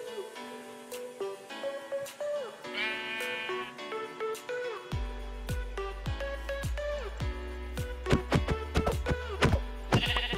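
Several Minecraft sheep bleat in repeated short, wavering calls, close and fairly loud, over a background of game music and ambient tones.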